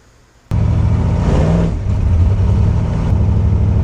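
An old carburetted car engine, freshly tuned, kicks in abruptly and revs strongly on a test drive, a loud close-up drone that holds steady with slight rises in pitch.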